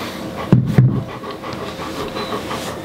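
A dog panting right in someone's face at close range: two heavy, breathy bursts about a third of a second apart, then softer breathing against a quiet room hum.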